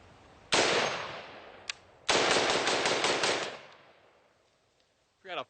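An AK pistol fires 7.62x39 full metal jacket rounds outdoors: one loud sharp shot with a trailing echo, a faint pop, then a rapid string of closely spaced shots that rings out and fades, with a brief voice at the end.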